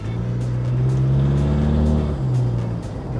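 A lowered, modified Toyota Innova with a 2KD diesel engine revs steadily up close, a loud, deep droning hum with strong low harmonics that swells slightly and holds for a few seconds, with no talk over it.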